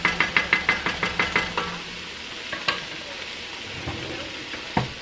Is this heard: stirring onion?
yes